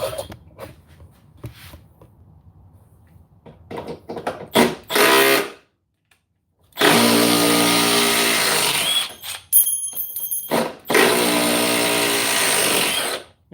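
A 12-volt cordless power tool, Dewalt, Milwaukee or Metabo, whirring in loud bursts that stop and start, each run a few seconds long, close up with quiet handling noises between them and no talk.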